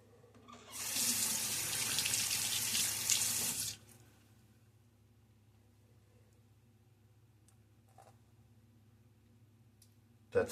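Water runs from a tap in a steady, bright splash for about three seconds during a wet shave lather build, then cuts off, leaving faint room hum with a small knock or two afterward.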